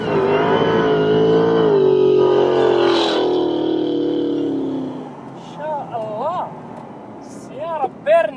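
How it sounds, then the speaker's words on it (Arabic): A Dodge Charger SRT with over 1000 horsepower revs hard, its loud engine note climbing and then settling back down, while people speak nearby toward the end. "سيارة بيرن اوت اكشن مش طبيعي، موتر صاحي صراحة"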